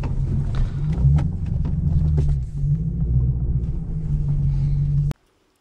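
Straight-piped 2009 Lexus IS-F with a naturally aspirated 5.0-liter 2UR-GSE V8, heard from outside, rumbling loud and steady with a deep throbbing burble for about five seconds before cutting off abruptly.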